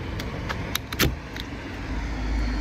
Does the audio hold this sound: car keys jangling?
yes